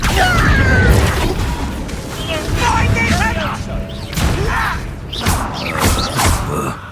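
Spell-casting effects in Hogwarts Legacy combat, including an Accio pull, come as whooshing bursts, thumps and magical crackles layered over a steady game-music bed, with voices speaking between the hits.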